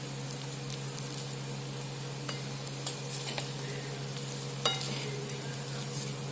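Raw mango rice being stirred in a pan after salt and sugar go in, with a steady low sizzle and a few soft scrapes and taps of a spoon against the pan, no talking.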